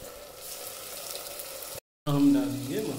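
Tomatoes hit hot oil in a mutton masala, starting with a soft sizzle, then a short silent gap, then a louder burst of frying with stirring and a faint voice.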